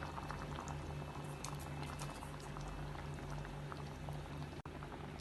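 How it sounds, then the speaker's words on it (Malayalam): Kerala-style coconut gravy for pomfret fish curry boils in a pot with a soft, steady bubbling and popping, faint and close, with a brief click near the end. "ഇപ്പം ഈ ഗ്രേവി നല്ലോണം തിളച്ചിട്ടുണ്ട്."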